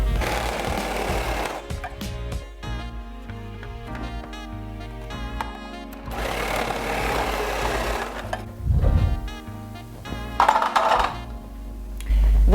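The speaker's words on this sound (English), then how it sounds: "I'm going to grate the pumpkin. I'm going to do it in a machine." A kitchen grating machine shreds winter squash for a pumpkin pie, a steady rhythmic mechanical whirring and clattering that runs throughout, with louder bursts of grinding near the middle and end.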